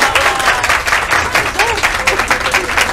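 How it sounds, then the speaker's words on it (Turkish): An audience at a meetup in Izmir breaks into lively applause, continuous dense clapping with scattered voices and cheers in the crowd. "Biz nasıl olduğunuzu alkışlarla anlıyoruz"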